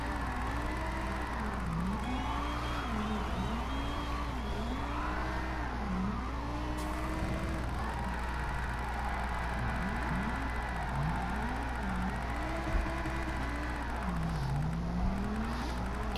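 Lamborghini Huracan Gr3 race car in Gran Turismo Sport during drift driving, its mid-mounted engine revving up and down repeatedly in a steady, loud wavering whine over constant road and tire noise, with no voices.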